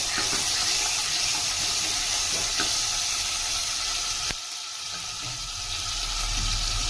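Mustard seeds and cumin fry in hot oil for a Nellore-style dal tempering, a loud, steady hiss and crackle that drops abruptly partway through before resuming more quietly, with no talking.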